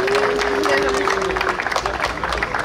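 An audience at a youth football tournament award ceremony claps steadily, a dense patter of hands in a hall with crowd murmur and a brief tonal squeal near the start.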